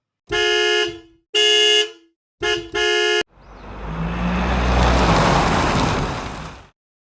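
Car horns honk in a Mumbai traffic jam: four loud, close blasts of varying length, then a swelling rush of traffic noise.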